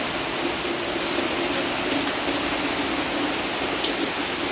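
Heavy rain pours down steadily at a house, a dense, constant hiss with no breaks and no voices.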